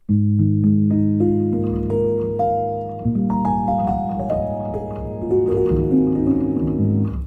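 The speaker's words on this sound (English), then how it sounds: "So, yeah, that's the kind of the raw piano sound." Raw felt piano preset modeled on a Yamaha YC5 baby grand, played alone as a slow sequence of sustained chords and single notes, soft and close, with notes layering and ringing over one another.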